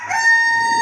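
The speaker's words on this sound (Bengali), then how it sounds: "হ্যাঁ ভোরবেলার ডাক, মুরগের ডাক" A dawn rooster crow plays as a phone ringtone: a brief, loud, clear fragment of a single drawn-out call.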